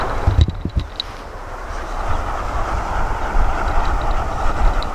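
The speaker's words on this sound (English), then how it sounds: "like a deep rumble. Once it does that it's going past 500 watts. So you hear it here probably" Deep, steady rumble from an axial flux wind turbine running above 500 watts outdoors, a continuous low drone with wind buffeting the microphone throughout and no talk.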